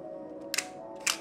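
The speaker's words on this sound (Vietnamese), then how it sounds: "đây là cái màn trập đây" A camera shutter fires twice, two short, crisp mechanical clicks about half a second apart, close and isolated against a quiet hum.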